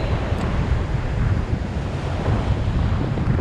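Sea waves wash steadily against the shore at a fishing spot, a continuous broadband rush of surf with wind buffeting the microphone throughout and no talking.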